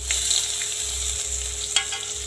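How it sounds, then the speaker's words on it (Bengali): Onions fry in hot oil in a pan, a continuous close sizzle with a soft crackle and a faint background hum. "পেঁয়াজটা ভাজা ভাজা হয়ে যাবে"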